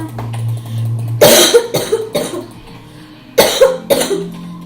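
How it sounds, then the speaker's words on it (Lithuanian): A string of harsh, close coughs in two bursts, each a quick run of three or four hacking coughs with short pauses between. "štat jūs girdite beveik kiekvienam video kaip kosėju"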